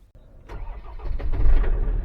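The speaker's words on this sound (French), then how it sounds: "je peux démarrer mon véhicule" A vehicle engine cranks and catches, then settles into a steady, close, rumbling idle that builds in loudness over about two seconds, with no talking.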